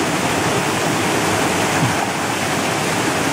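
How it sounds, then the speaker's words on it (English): Neergarh waterfall near the source of the Ganges roars as a dense, steady rush of falling water, loud and unbroken across the whole stretch with no talk over it. "Checking out the cool waterfall."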